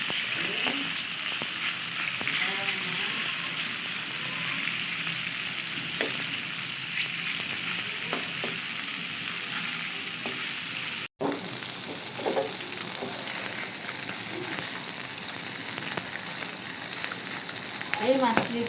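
Fish curry ingredients frying in hot oil with a steady, close sizzle and hiss, occasional stirring scrapes and faint background voices, broken by one brief sharp click midway.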